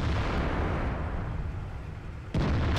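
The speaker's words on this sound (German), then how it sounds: "Und ihr hört hier schon die Schüsse knallen." Heavy gunfire and booming blasts in a tank video game battle featuring the E50M roll on continuously in a dense, loud din, with a sharp burst of shots near the end.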